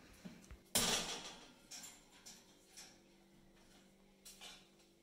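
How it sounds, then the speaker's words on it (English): An old thermostat being pulled from a fan oven cooker: one loud metallic clunk near the start, followed by several lighter knocks and rattles spaced apart in a quiet room. "Remove the old thermostat from the cooker."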